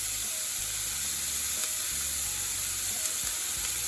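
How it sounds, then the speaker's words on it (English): Onions and small eggplant off-cut pieces fry in hot oil, giving a steady close sizzle with faint crackles and spits throughout, no voices. "And we fry them to become golden brown."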